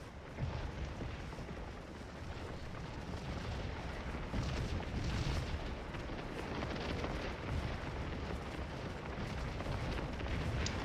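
Artillery barrages in a Scourge of War Civil War battle game, set at Chancellorsville on May 3, 1863. Heavy continuous rumbling booms at a distance blend into a dense roar, with no voices.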